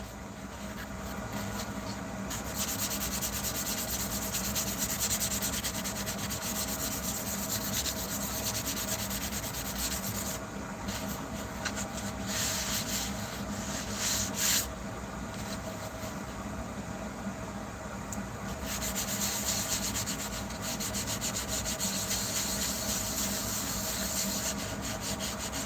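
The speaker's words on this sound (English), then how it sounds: "Buffing it a little bit, just buffing." A badge buffed by hand, with steady rubbing strokes that continue for the whole stretch under a constant broadband hiss and low hum.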